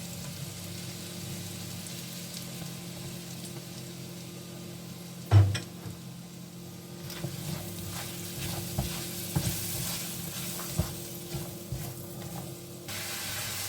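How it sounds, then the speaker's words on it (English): Mushrooms fry in a pan with garlic for a seafood stir fry, giving a steady close sizzle with a sharp clatter midway and occasional utensil scrapes and taps toward the end. "Then you fry your mushroom."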